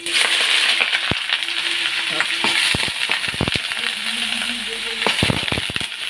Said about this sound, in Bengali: এই যে আলু ভাজাটা দিয়ে দিলাম